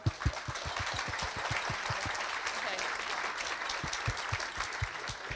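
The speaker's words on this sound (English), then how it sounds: "I think that work deserves a round of applause." Citizens' assembly participants in Glasgow applaud steadily for several seconds, a dense, sustained round of clapping filling the room with a few sharper, closer claps standing out.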